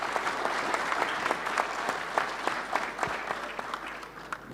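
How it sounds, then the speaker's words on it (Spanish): Audience applause at a mining seminar panel on autonomous mining, a steady wash of clapping with distinct sharper claps popping out, moderately loud and continuous with no talk over it. "Un aplauso, por supuesto, para ellos antes de que continuemos."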